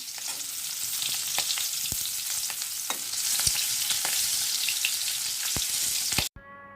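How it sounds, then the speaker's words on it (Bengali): Two pieces of fish frying in a pan at home, a steady loud sizzle and spatter with occasional sharp pops, heard close up and alone, cutting off abruptly at the end. "চলো মাছ ভাজাটা করে নিই"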